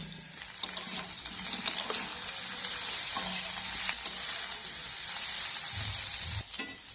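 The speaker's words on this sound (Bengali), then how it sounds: "এখন ওই তেলের মধ্যে ভাপিয়ে রাখা ফুলকপিগুলো ভেজে নেব" Steamed cauliflower frying in mustard oil in a kadai, a steady close sizzle with crackling spits and occasional stirring scrapes, continuing without talk.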